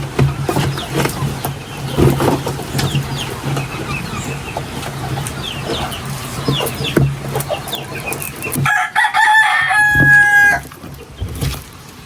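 After a stretch of rustling outdoor noise with faint chirps at a fish farm, a rooster lets out one loud, drawn-out crow close by.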